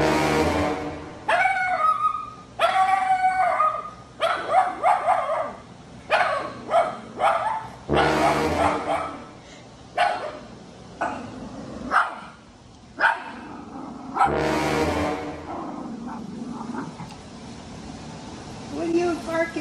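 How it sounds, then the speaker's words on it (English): A dog barks repeatedly in short bursts and yips close by, mixed with a person talking at it, with a low background hum throughout. "What are you barking at me like that for"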